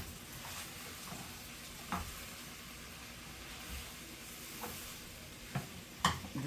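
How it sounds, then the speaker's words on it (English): Kale and mixed vegetables are stirred in a frying pan, a quiet, steady sizzle broken by a few sharp scrapes and clacks of a utensil against the pan. "now I want to make sure my kale is all mixed up with my veggies really nice"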